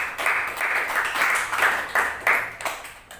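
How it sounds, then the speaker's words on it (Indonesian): Students in an elementary school classroom clap together at their teacher's prompt, a short ragged burst of hand claps with uneven pulses that fades within a few seconds. "Oke, tepuk tangan untuk kita semua."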